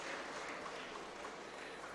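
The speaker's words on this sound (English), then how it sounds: "So a big round of applause to all the delegates who have actively taken part in all the sessions" Audience applause at a youth conference, a dense, even wash of clapping from a crowded hall, sustained at moderate loudness for the whole stretch.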